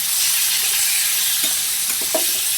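Tomatoes and curry leaves sautéing in a pan for a soya and green bean gravy, a steady close sizzle and hiss with a few soft stirring scrapes near the end, no voices.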